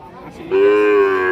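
A dairy cow with calf moos loudly and close by at the Rajshahi city cattle market, a single long sustained low call rising out of quieter market noise.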